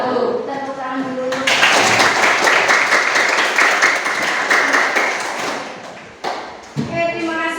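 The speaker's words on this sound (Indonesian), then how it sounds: "Tepuk tangan dulu" Students in a classroom physics lesson break into loud, dense clapping for about five seconds, cutting off sharply; a teacher's voice speaks before and after the applause.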